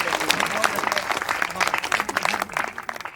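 An audience at a patriotic poetry gathering honoring martyrs breaks into sustained applause, a dense, fairly loud wash of clapping that runs for several seconds and grows more scattered and uneven toward the end.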